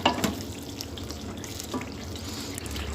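Malai chicken masala being stirred in a handi with a spoon, giving a wet, soft scraping and mixing under a faint background sizzle, steady and close throughout.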